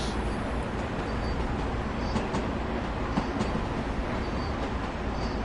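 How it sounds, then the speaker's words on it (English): A Long Island Rail Road M3 commuter train rumbles along in Train Sim World, giving a continuous loud roar of rolling wheels on track with faint rhythmic clicks buried in the steady noise. "I still love that, the clickety clack over the track."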